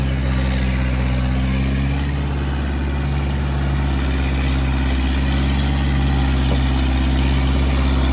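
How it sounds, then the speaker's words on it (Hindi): Kubota MU4501 45 HP tractor driving a 10-foot, 66-blade Shaktiman rotavator through soil, a steady, loud, close engine drone with continuous low rumble throughout and no talking. "10 फीट का रोटावेटर है"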